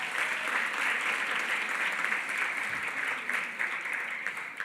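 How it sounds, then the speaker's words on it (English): A banquet audience at a closing reception and dinner applauds steadily, a dense wash of clapping that stays loud and slowly tapers near the end. "give Jamil and give Target another big round of applause"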